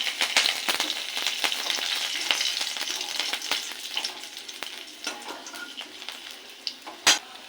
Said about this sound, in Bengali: এবার এই তেলের মধ্যে দেবো রসুন